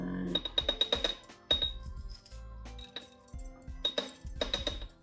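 Glass clinking repeatedly against glass while a whiskey infusion kit is set up with ginger and light oak, irregular bright taps in quick clusters, close and fairly quiet, with low thumps between them.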